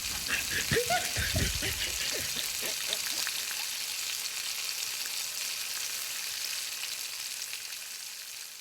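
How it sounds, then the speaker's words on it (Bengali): Chicken pieces frying in hot oil in a home kitchen, with loud crackling spatter and pops early on that settle into a steady, quieter sizzle. "চিকেন গুলো ভাজতে গিয়ে মনে হচ্ছে আমি মহাযুদ্ধে অংশ নিয়েছি"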